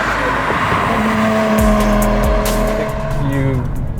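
A Nissan Skyline GT-R R33 engine screams as the turbo boost kicks in, loud and close, rising in pitch through the gears with shift drops, under a steady rush.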